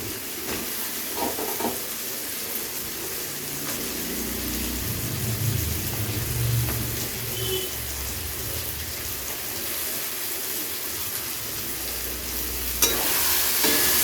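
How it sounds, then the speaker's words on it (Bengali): Ridge gourd being stir-fried with tomato, ginger, green chilli and spices in a pan, with a continuous hiss of sizzling and occasional stirring scrapes, steady and close. "ঝিঙেগুলো দিয়ে খুব ভালো করে মশলার সাথে মিশিয়ে নেব"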